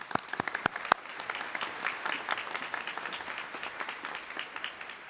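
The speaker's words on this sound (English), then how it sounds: "So a round of applause will bring up Chief Lisa Davis." A ceremony audience applauds Chief Lisa Davis at a police unit awards event, opening with a few loud, sharp individual claps before settling into a steady, moderate round of clapping from the crowd.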